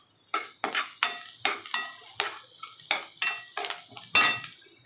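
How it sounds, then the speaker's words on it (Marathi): Onion frying in a tempering of mustard seeds, cumin and garlic, with about a dozen rhythmic stirring scrapes over a steady sizzle, close and fairly loud, without talk. "कांदा टाकला, कांदा लाल होती बघा"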